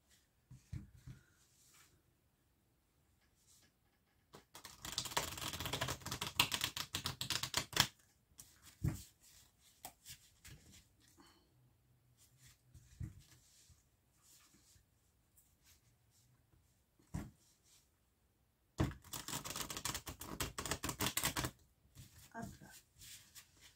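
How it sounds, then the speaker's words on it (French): Tarot cards are shuffled in two loud bursts of riffling, each a few seconds long, separated by quieter pauses with faint handling and a voice speaking briefly. "On va bien brasser les cartes avant."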